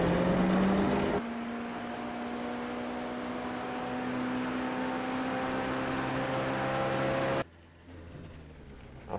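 A race car in a sim racing game sets off with a steady whining engine drone that holds and climbs slowly, then drops abruptly to a quieter hum near the end.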